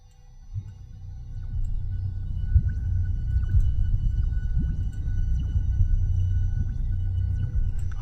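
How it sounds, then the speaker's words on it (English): A MachFive3 granular synth patch with one frequency band swept by an LFO forms a dense, low rumbling drone with slow throbbing swells and faint tonal streaks above. It stays loud and steady throughout, with no talk. "So let me modulate that just because I can with an LFO."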